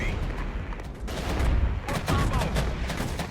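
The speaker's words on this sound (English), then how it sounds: "they're shooting into the rear of my tanks" Gunfire from enemy Scorpion light tanks in the real-time strategy game Regiments, dense overlapping bursts of shots and blasts rolling continuously and loudly, firing into the rear of a tank column.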